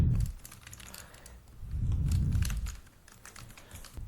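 Keys clack on a computer keyboard in quick irregular bursts while data is entered into a Drupal multi-step web form, close and fairly quiet, with no talking.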